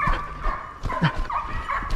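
Hunting dogs bark and yip repeatedly during a driven wild boar hunt in the 2021-2022 season, sharp close calls coming in quick irregular bursts with a brief whimper.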